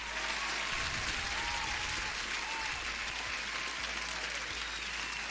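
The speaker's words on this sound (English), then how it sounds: "deserves the applause" Steady, fairly quiet applause fills the whole stretch as a dense wash of clapping without a clear beat, over a low constant hum and with no talking heard.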